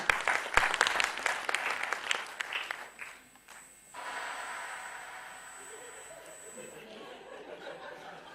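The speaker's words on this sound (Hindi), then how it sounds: "जोरदार तालियां प्लीज एहसान खुशी जी की।" A studio audience at a comedy show's tenth-anniversary celebration breaks into loud, dense applause for a few seconds, then the clapping thins out into scattered claps and a softer murmur of laughter and crowd noise.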